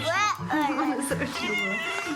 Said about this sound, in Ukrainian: Отпустите его, он мявкает.